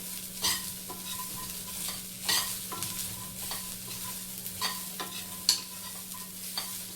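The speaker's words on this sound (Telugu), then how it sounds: "సో ఇవన్నీ వేసిన తర్వాత మొత్తం కలపండి" Vegetable filling for veg puffs fries in a pan while a spoon stirs it in repeated scraping strokes every second or so, over a continuous soft sizzle, close and with no talk.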